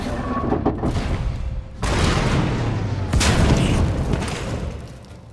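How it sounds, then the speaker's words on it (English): Heavy booming blasts and crackling gunfire-like bursts in the video game SWTOR: Knights of the Eternal Throne rumble on continuously, with two sharp loud onsets partway through, dense and close. "We heard explosions. The tunnel collapsed."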